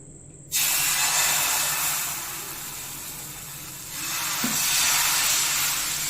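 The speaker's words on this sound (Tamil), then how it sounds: "எண்ணெயை தடவிட்டு தோசையை ஊற்றிடலாம்." Dosa batter made from leftover rice and rava hits an oiled hot pan with a sudden loud sizzle, settling into a steady hiss that swells again a few seconds later.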